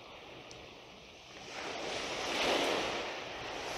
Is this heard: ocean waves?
yes